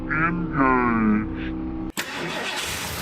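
An old 4x4 Ford farm truck, sitting abandoned for 32 years, gets its engine started: a voice comes first, then a sudden burst of engine noise that holds steady as a loud, rough run after the crank catches.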